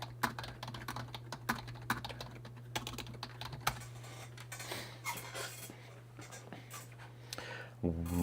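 Faint clicks of typing on a computer keyboard set some distance away, coming in scattered irregular taps over a steady low hum.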